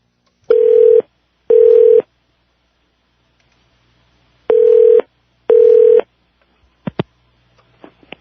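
Telephone number being dialed: four loud, steady electronic tones in two pairs separated by silence, followed by a few faint clicks.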